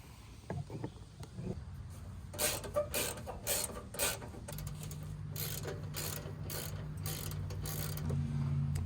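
A socket ratchet loosens small nuts on a cover, producing a quiet run of rapid clicks. A low steady hum follows and continues to the end.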